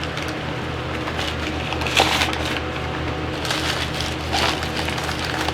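Bionicle Visorak toy packaging being opened: crinkling plastic and cardboard rustles with a few sharper cracks and tearing bursts, close and continuous, with no talk.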